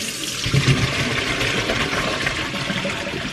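Water from boiled Brussels sprouts drains out in a steady, close rushing splash, like a pot being poured through a strainer into a sink, with no one speaking.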